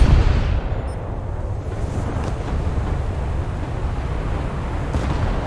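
Deep rumbling booms and heavy low roar from naval gunnery in the War Thunder video game, a big ship's gun report at the start followed by sustained engine and wind-like rumble with no talk.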